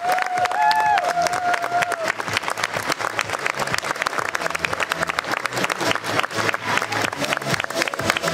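Sustained audience applause fills a school baking championship award ceremony in Gothenburg, dense and steady clapping with scattered cheers throughout, with a brief voice near the start.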